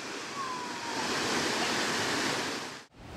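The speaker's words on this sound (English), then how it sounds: "This is waterfall kind of actually waterfalling off this big rock." A waterfall pouring off a big rock in the Great Himalayan National Park, Himachal Pradesh, makes a broad, continuous roar that holds steady and close before cutting off abruptly near the end.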